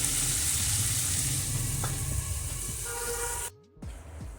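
Cowpea pods sizzle loudly in a hot spiced tempering, a dense continuous frying hiss that fades briefly near the end before returning.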